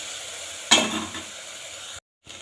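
Rice is stirred into a sautéed mixture in a pan for a porridge called kanji, with one brief scraping stir over a soft steady sizzle, then a sudden cut to silence near the end.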